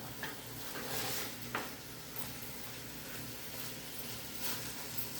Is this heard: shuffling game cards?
no